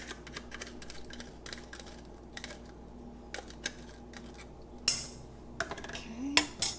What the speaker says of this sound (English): we're going to scoop that in there